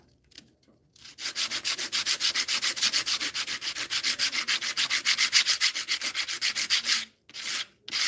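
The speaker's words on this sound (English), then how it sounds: "I think I need to sand this side a little bit too." Rhythmic back-and-forth hand sanding of wood, steady loud close strokes of about two per second for several seconds, then a pause and a few final strokes.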